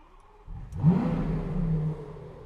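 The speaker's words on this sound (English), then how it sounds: "and there the car turns on" Lamborghini Aventador SV V12 coupe firing up: a sharp ignition burst that settles into a loud, steady idle rumble close by.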